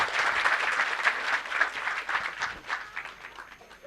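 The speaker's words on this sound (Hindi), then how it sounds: "एक बार जोरदार तालियों के साथ इनका अभिनंदन किया जाएगा." A small audience applauds a guest at a trophy presentation, clapping loosely with individual claps audible, fading slightly toward the end.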